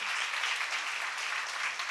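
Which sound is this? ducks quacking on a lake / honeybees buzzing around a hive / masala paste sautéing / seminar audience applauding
seminar audience applauding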